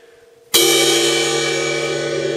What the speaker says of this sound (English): And then the bell.